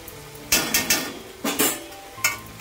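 Cabbage and dried shrimp bhaji being stirred in a pan, a run of sharp spoon-on-metal scrapes and clinks in irregular bursts, close and fairly loud, with no talking.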